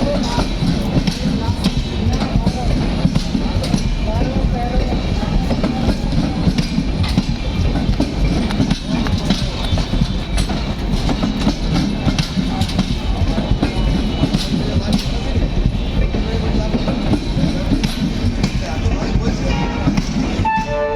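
Gitanjali Express train 12860 from Mumbai pulls into Kharagpur Railway Station, a loud, steady roll of clattering wheels and rumbling carriages that holds for about twenty seconds, with station noise underneath.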